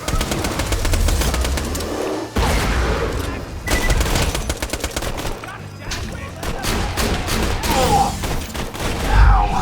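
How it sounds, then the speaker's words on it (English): Grenade blast amid dense gunfire in the shooter game Borderlands 2, loud bursts of shots and explosions crowding together with a heavy low thump near the end. "A grenade!"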